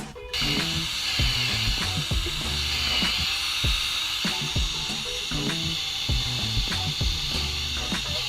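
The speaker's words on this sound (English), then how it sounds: "and then I'm drilling it out, so hopefully we get a solid fit." A power drill whines steadily while boring holes in wood for floor joists, sharp knocks and clicks breaking in at an irregular rhythm, loud and close.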